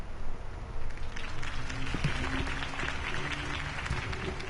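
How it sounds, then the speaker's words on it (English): Crowd applause following a campaign speech for Harvey Dent in a Batman video game, a steady wash of clapping at moderate distance under faint game sounds and indistinct voices. "If only Mr. Wayne, my campaign's largest backer, could have heard that applause"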